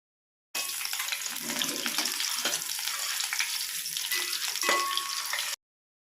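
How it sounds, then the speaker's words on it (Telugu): Eggs frying in hot oil in a pan, a steady, close sizzling hiss that starts abruptly and runs evenly for about five seconds, with faint scraping now and then and no voices. "ఎగ్స్ వేసుకొని ఫ్రై చేసుకోవాలి గోల్డెన్ కలర్ వచ్చేంత వరకు."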